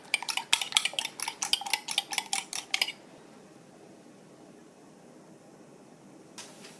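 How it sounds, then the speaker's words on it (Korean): Egg yolk and white being beaten together in a bowl for a batter coating, a rapid run of rhythmic clinking whisk-or-chopstick strokes against the bowl for about three seconds, then near silence with faint room hum. "계란을 노른자하고 흰자하고 잘 섞어서 저어주세요"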